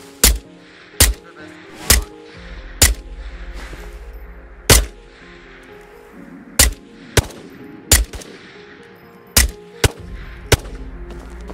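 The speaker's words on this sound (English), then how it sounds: "I'm gonna kill him with the infamous Glock." Single Glock pistol shots ring out in the video game Ghosts of Tabor, about a dozen sharp, loud cracks fired at irregular intervals with quiet gaps between them.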